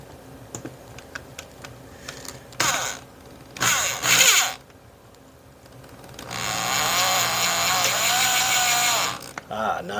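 A power drill drives a countersunk screw into wood with a couple of short buzzing bursts and then a longer sustained whine close up, with light handling clicks between.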